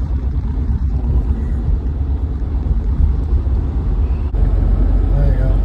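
A white 1970 Opel GT with a 1.1 liter straight-four engine being driven, its steady low engine rumble and road noise filling the cabin loudly and continuously, with a brief shift in tone near the end.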